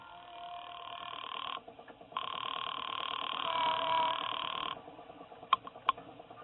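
Old-style telephone ringing down a payphone line in a radio drama, with a long filtered ring tone and short breaks between rings, then a couple of sharp clicks as the call is picked up, no talking.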